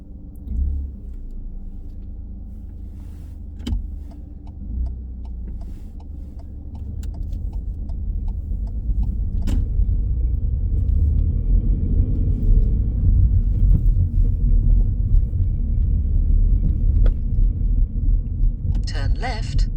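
A car pulls away on a driving test, its engine a steady low rumble that grows louder and fuller as it gathers speed. A few faint ticks and clicks sit over the engine noise.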